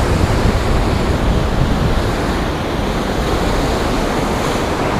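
Ocean waves surge against the rocky shore at Acadia, a loud, continuous roar of churning surf mixed with wind buffeting the microphone, close by and steady throughout with no speech.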